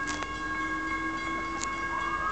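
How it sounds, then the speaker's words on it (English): A train pulls into a station, a headlight visible down the track, giving a steady rumbling hum with sustained tonal whines and a few brief brighter squeals, fairly close and continuous throughout, with no talking. "There's the train, James."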